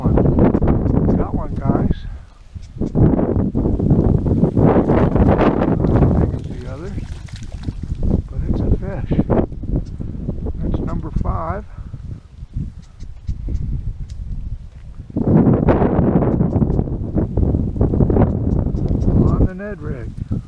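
Strong wind buffeting a microphone on a bass fishing boat, roaring in loud gusts that drop out briefly and surge back, with a person talking over it at times.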